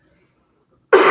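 A single short cough bursts out at the very end after near silence, close and loud, during a seated chair yoga breathing practice.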